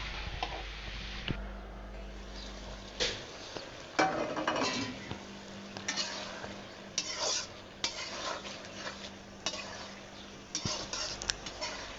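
Chickpeas and potatoes being cooked in a pot, with a spoon repeatedly scraping and stirring against the metal in an irregular rhythm, close by and moderately loud over a low steady background hum.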